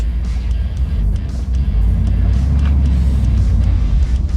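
A Dodge Ramcharger that sat for 20 years drives along, its engine a loud, steady low rumble with road and cabin noise and no talking.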